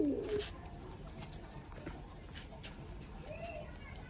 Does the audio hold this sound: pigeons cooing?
yes